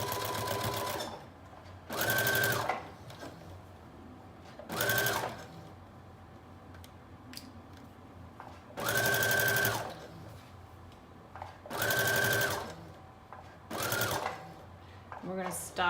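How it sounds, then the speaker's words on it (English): A sewing machine runs long loose basting stitches along the edges of a knit dress, sounding in several steady bursts of a few seconds each, separated by pauses under a low constant hum. "So now we're going to stitch on the edges, and then we're going to baste on the side."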